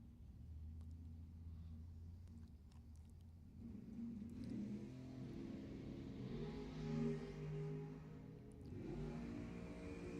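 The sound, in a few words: dragster and pickup truck drag racing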